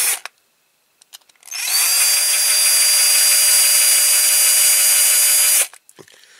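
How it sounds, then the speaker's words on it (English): A small power drill whines steadily for about four seconds, drilling out a rivet on a Corgi Toys Citroen Safari die-cast model, with a few light taps and clicks before and after. "I'll start off again with a small drill bit"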